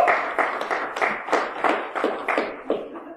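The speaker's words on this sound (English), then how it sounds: "Where's my applause?" A few people clap in short, uneven bursts after a presentation, a small scattered round of applause that fades out after a few seconds.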